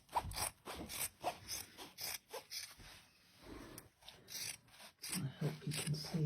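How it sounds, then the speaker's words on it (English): Scissors snip through thick denim from an old pair of jeans being cut into a rounded shape for a gardening apron, a run of close, rasping cuts with short pauses between them. "I'm just going to cut a slightly rounded shape around here"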